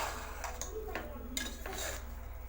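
A utensil scrapes and taps against a pot of dal rice in an irregular stirring rhythm, close by, with faint kitchen background.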